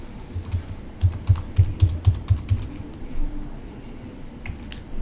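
Login details tapped out on a computer keyboard, a quick run of about eight distinct key clicks followed by a few scattered presses, close and clear with no talking.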